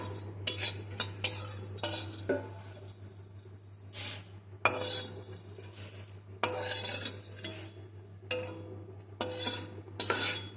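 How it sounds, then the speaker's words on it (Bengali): Roasted whole cumin seeds scooped out of a wok into a bowl, heard as repeated short scraping and clinking bursts of a utensil against metal, separated by brief pauses over a low steady hum. "জিরেটা ভাজা হয়ে গেছে এবার আমি একটি পাত্রে তুলে নেব"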